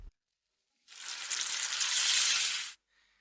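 Fried rice (nasi goreng) sizzling in a pan, a single loud burst of hissing frying that swells for about two seconds and then cuts off abruptly, with no talk over it.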